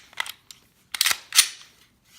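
A Glock pistol slide fitted with a stainless guide rod, spring and threaded barrel is slid back onto its frame, producing a few sharp metallic clicks and a final firm snap, close and isolated with no talking.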